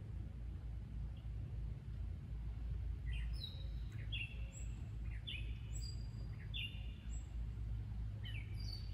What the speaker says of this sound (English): Competing for song. Catbird has a better song.